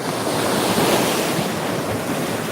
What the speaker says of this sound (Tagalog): Kung wala, nako, ang lakas ng alon yan.